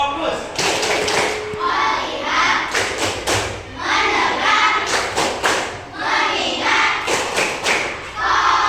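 Primary schoolchildren in a classroom doing the rhythmic 'tepuk fokus' clapping routine, with loud patterned claps and thumps in repeating bursts mixed with children's voices chanting along.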